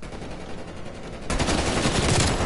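A newly picked-up gun fires in an online battle video game: quiet background at first, then a sudden burst of rapid automatic fire that stays loud and continuous to the end.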